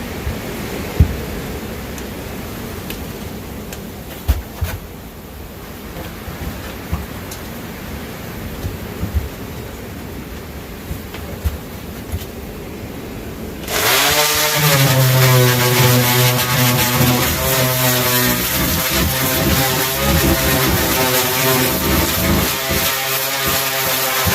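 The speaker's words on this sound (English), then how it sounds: "This is a really cheap orbital sander" A cheap orbital sander buzzes steadily against a wooden hiking stick, loud and close, starting partway through after quieter background noise and running continuously to the end.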